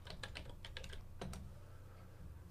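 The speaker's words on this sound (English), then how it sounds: "this time I'll use the period key on the keyboard to move over" Computer keyboard keys click in a short, fast flurry of presses, then two more taps, all faint and close with no voices.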